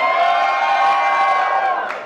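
A crowd of spectators screams and cheers loudly and continuously, high-pitched voices blending into one sustained roar that tapers off at the end.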